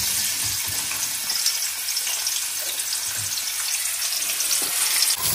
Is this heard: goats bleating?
no